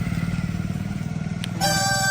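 A motorcycle's engine runs steadily nearby, a low rumbling drone with a clatter, joined near the end by a brighter tonal hum that may be a horn.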